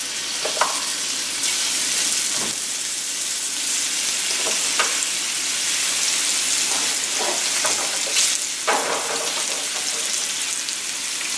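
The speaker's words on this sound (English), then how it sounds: "the idea is just to brown the meat" Pork browns in a hot pan for a cider braise, giving off a loud, steady sizzle and frying crackle with a few scrapes and stirs of the utensil. No voices break in.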